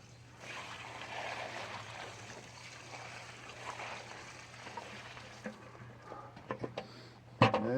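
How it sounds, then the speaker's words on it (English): Water pouring onto a homemade potting soil mix in a bucket, a soft continuous trickle and splash that fades toward the end, followed by a few faint knocks and a sharp bump. "And then just pour the water on."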